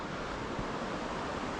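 The river flows broadly near Railroad Rapids at Ohiopyle, a continuous, fairly quiet wash of rushing water heard from the shore, steady throughout with a faint breath of wind and no voices.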